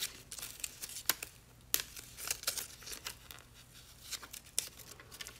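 Paper backing being peeled off tacky appliqué fabric, a run of close crinkling and tearing crackles in irregular bursts, with no talk.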